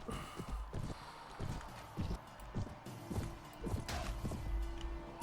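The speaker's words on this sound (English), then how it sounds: "And I've been given a horse again." Horse hooves clip-clop in a steady, rhythmic gallop during a tournament round of four teams of three in Mount and Blade: Warband (Prophesy of Pendor mod), fairly loud and continuous with no talking.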